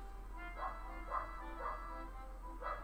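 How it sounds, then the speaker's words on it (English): A dog barks repeatedly in the background, four faint, evenly spaced yips over a steady low electrical hum. "Sorry if you can hear a dog barking in the background as well on the chat."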